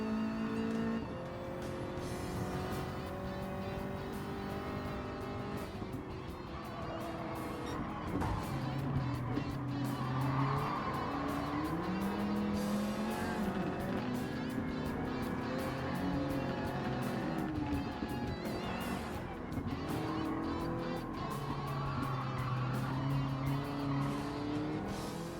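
Race car driving in the video game Gran Turismo 7, a continuous engine drone that rises and falls through gear changes with some tire squeal, steady and close with no talk.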